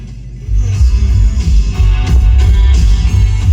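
Heavy, booming low bass thumps steadily from the stereo subwoofer of a 1986 Chevrolet K5 Blazer, loud and continuous, with faint music above it and no talking.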